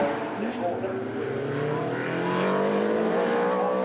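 Much-modified Tasman race car at Oulton Park, its engine droning loud and steady with a rising pitch as it runs ahead of the leaders, the smoking car's note swelling as it draws closer, with commentary over it.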